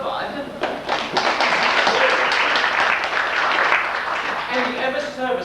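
A theatre audience applauds during a performance of The Mystery of Edwin Drood, steady broad clapping from many hands throughout, with voices speaking or singing over it near the end.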